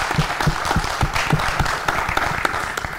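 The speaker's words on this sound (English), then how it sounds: "Join me very quickly in just a round of applause to say thanks for coming along." A conference audience at a DrupalSouth Sydney event applauds, producing dense, continuous clapping from many hands at close range, steady in level with no speech over it.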